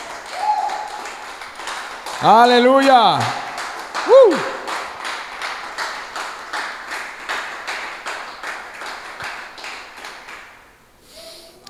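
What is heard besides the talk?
congregation applauding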